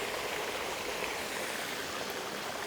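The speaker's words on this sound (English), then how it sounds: "there's the running stream going along the footpath" Running stream flowing beside a footpath on a countryside walk around Crich, Derbyshire, a steady broadband rush of water that stays close and even throughout with no voices over it.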